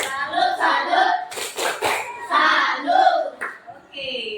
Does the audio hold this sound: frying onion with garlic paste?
no